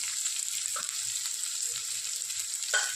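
Grated ginger and garlic frying in a pan for pav bhaji, a bright, even hiss of oil with a couple of brief spoon scrapes, nearby and steady, no talking.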